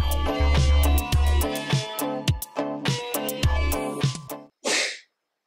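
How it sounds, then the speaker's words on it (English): A single sharp sneeze bursts out near the end, following steady music with a thumping beat that stops just before it. "I sneezed."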